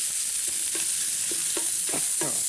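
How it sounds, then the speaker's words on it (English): Homemade chorizo sausage browning in a 14-inch Lodge cast iron pan, with a steady broad hiss of sizzling fat and a few soft stirring scrapes, close up. "So we're just going to brown off this sausage real quick"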